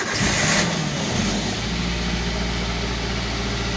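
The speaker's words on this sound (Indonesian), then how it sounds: "Oke, langsung saja akan saya nyalakan, coba untuk menyalakan mesinnya." A car engine cranking and catching after its battery was recharged for 12 hours, a loud brief starter burst that settles into a steady, close running idle with no talk.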